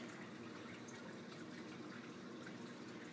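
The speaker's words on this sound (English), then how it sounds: "it slowly starts pumping the water back in" Water is pumped back into a home aquarium from a bucket on wheels during a water change, making a steady, unbroken rushing and trickling wash that stays quiet and even throughout.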